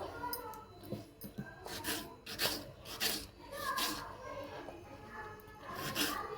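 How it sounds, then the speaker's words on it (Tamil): A knife finely chops an onion on a board for beetroot poriyal, with steady, repeated close cutting strokes that rasp and thud at an even pace. "இப்போது பீட்ரூட் பொரியலுக்காக ஆனியன் கட் பண்ணிக்கலாம். கொஞ்சம் பொடி பொடியாக கட் பண்ணிக்கோங்க."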